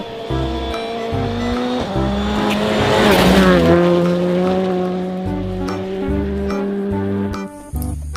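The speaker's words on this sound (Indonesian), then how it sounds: "Di sini ada motor balap." A racing motorbike engine revs loudly and steadily, its pitch climbing and falling in sustained tones across the whole clip, close and alone with no talk.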